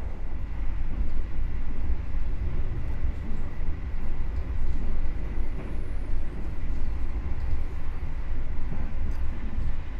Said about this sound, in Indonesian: Berpapasan dengan kereta api Logawa ya, dari Purwokerto tujuan ke Ketapang.